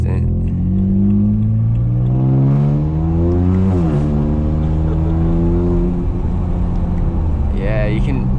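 A 2008 BMW E82 135i with twin turbos, tuned to about 400 hp, accelerates hard with a loud close engine drone climbing through the gears, a brief dip at a quick shift, and a voice over it.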